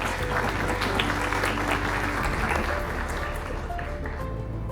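An audience at a health-technology conference applauds a speaker called to the stage, a dense steady clapping that fills the whole stretch and fades slightly near the end.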